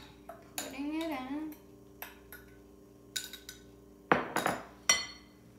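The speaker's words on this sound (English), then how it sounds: "now we put in the banana, and you have to mash it up so it looks like that" A utensil scrapes and clinks against a bowl while banana is mashed for banana bread, with sparse clattering knocks and a couple of sharper clanks, near and fairly quiet amid a faint background hum.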